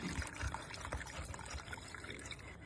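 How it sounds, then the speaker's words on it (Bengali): Water is poured into a potted rose plant with well-draining soil, a soft irregular splashing trickle that goes on for a few seconds, faint and close, with no talking. "তাই আমরা আরও জল দেব।"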